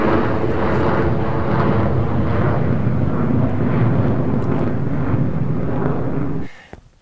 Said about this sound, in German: Und jetzt im Vergleich Flugzeug B.